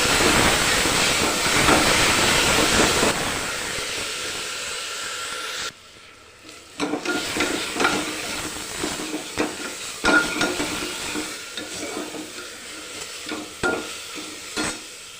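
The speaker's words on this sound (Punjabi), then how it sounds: "ਉਸ ਤੋਂ ਬਾਅਦ ਆਪਾਂ ਇਸ ਦੇ ਵਿੱਚ ਪਿਆਜ਼ ਲਸਣ ਤੇ ਅਦਰਕ ਜਿਹੜਾ ਚੌਪ ਕਰਕੇ ਰੱਖਿਓ ਪਾਵਾਂਗੇ ਜੀ" Chopped onion, garlic and ginger drop into a hot pan and fry with a loud sizzling hiss that eases off, followed by stirring scrapes and clinks from a spoon against the pan.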